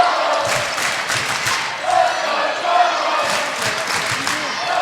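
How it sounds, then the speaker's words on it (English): A women's college basketball crowd in a gym during a tense late-game moment, a broad roar of fans with rhythmic chant pulses and scattered shouts swelling and fading, under steady commentator talk. "Crowd's getting the chant going."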